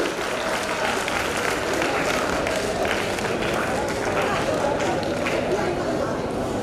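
Loud, continuous applause from a crowd honouring democracy fighters jailed during the Emergency, at a ceremony in Udaipur district, a dense steady roar of clapping with chatter and voices mixed in.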